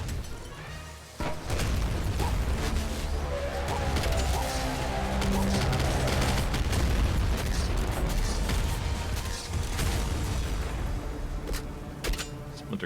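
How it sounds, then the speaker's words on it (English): Crossbow bolts fired with a special ability in the game Nuclear Throne, heard amid a dense, continuous barrage of loud mechanical firing, crashes and booms that hardly lets up. "they just fire 4 bolts with his special ability over that way towards the enemies that I can't even see"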